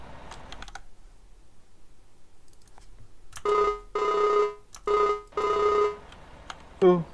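A telephone rings in Farming Simulator 19: four electronic ring bursts in an uneven rhythm, clear and close, following quiet background clicks and a brief sound near the start.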